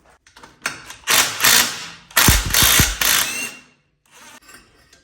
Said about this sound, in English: first thing I'm going to do is unbolt this, I don't even know what you'd want to call it, I guess down pipe